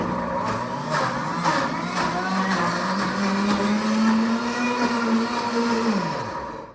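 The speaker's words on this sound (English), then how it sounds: "So what the Deluxe Cooking Blender does, it alternates between blend and heat." A Deluxe Cooking Blender runs on vegetables for a marinara sauce as it alternates blending and heating: a loud, steady motor whine that slowly rises in pitch, then winds down at the end.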